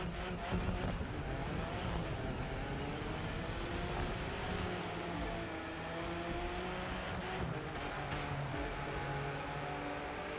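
An Alfa Romeo Giulia engine drones steadily while driven in The Crew 2, a continuous revving hum with shifting pitch and road noise, fairly loud and unbroken, with no voices.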